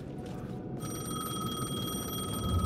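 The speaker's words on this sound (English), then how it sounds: "The payphone was ringing." A payphone in the video game Alan Wake, ringing steadily with a bright, sustained bell tone that starts after a brief quiet moment, over a low, rumbling ambient background.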